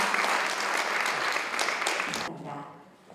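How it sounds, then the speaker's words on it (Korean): A crowd at a women's association inauguration ceremony applauds in a steady, full burst that cuts off abruptly near the end, leaving a faint tail of room sound. "여러분 박수 부탁드립니다"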